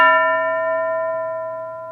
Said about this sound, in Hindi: घंटी बजने पर